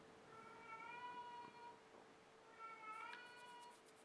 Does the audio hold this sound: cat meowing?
yes